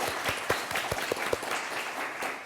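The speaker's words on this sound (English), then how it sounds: "Maybe applause to all of them." Applause from the audience at an academic symposium session, a sparse scattering of claps that fades out over a couple of seconds.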